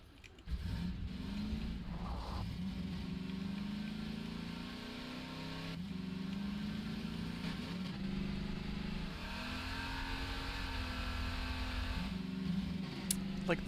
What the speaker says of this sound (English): Like that the car wheels don't go any faster when you hit the turbo. It just gets louder.